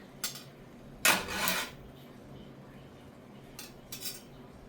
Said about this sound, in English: Now I'm gonna take the spatula. I'm gonna grab some veggies to the side.